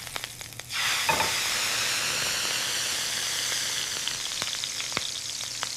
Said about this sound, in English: I flip the steak carefully. I cook the other side.